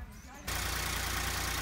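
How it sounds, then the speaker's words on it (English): A car engine idling steadily after an oil change, parked on flat level ground, with a low even hum that starts abruptly and runs loud and constant. "so with the engine running"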